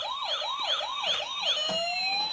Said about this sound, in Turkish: Işıklı ambulans açıyor musun babacığım?